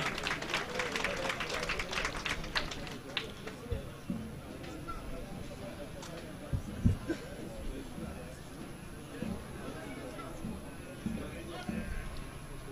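A crowd at an oil-wrestling festival in Kula, Manisa claps, with scattered applause and crowd murmur; the clapping is busiest at the start and then thins into a low hubbub, with faint thumps in the background.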